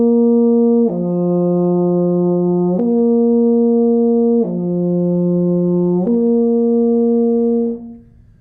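Euphonium lip slurs sliding down one step and back up, repeated twice as four sustained, steady tones with smooth connected changes, close and full, then fading out; no speaking.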